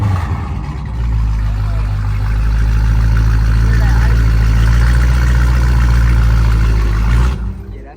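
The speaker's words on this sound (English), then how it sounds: "Let me show y'all real quick how she sounded right now. Give y'all a little remote start" A Dodge Challenger Scat Pack with a 392 engine and deleted muffler idles after a remote start, a loud, deep, steady rumble that settles in after about a second and holds evenly before cutting off near the end.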